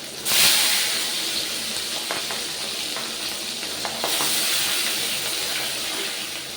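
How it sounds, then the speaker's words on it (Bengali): Turmeric-coated fish frying in a pan in a home kitchen, a steady soft sizzle and hiss running throughout with a few faint clicks of stirring, no talking. "এবারে হলুদ মাখিয়ে মাছগুলো ভেজে নিতে হবে"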